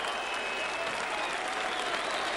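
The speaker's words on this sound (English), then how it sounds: "it's brought the crowd back to life again" Rugby league crowd at a Whitehaven versus Workington match cheering and applauding after a try, a dense continuous roar from a large crowd, with a commentator's voice faintly underneath.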